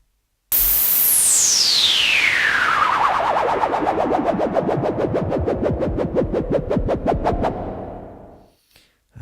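A synthesized noise sweep falls steadily from a bright hiss to a low whoosh, breaking into rapid rhythmic pulses that speed up, then fades into a long, spacious tail from a huge hall reverb.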